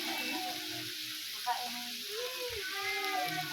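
Vegetables for chop suey sauté (ginisa) in a pan with a soft, steady sizzle and occasional stirring clinks, while people talk nearby over the cooking.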